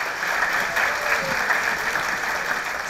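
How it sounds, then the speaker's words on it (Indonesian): Applause from a campus talk-show audience at a university venue, a steady dense wash of many hands clapping at even loudness for about three seconds, with no speech over it. "Tepuk tangan untuk kita semua."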